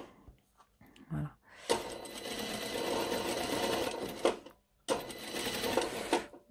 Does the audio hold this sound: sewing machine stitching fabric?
yes